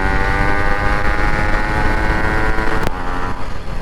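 A Yamaha RXZ motorcycle pulls hard in third gear with a loud, continuous engine roar and some wind buffeting. A brief click sounds near the end.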